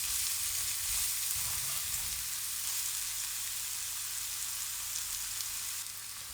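Onions for Korean beef bulgogi fry in hot oil, a soft, steady sizzle at close range with a few brief stirring clatters early on, no voices.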